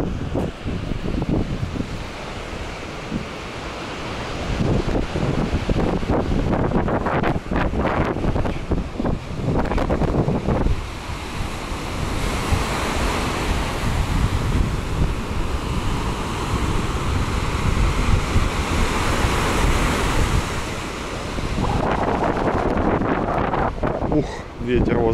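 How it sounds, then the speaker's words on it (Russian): Strong wind buffets the microphone at the seaside in Alanya on a windy, rainy January day, with surf and waves rolling steadily underneath for the whole stretch, loud and close, with no clear voices over it. "Ветер возле моря."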